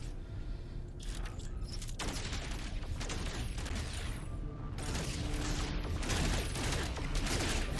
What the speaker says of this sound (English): I should be able to shoot them from up here.